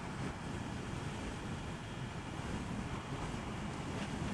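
Steady, heavy roaring wind buffets the microphone while riding an Arora Gemma 125 motorcycle at about 105 km/h, a dense rushing noise without letup, with no voices.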